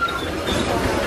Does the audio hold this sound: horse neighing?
no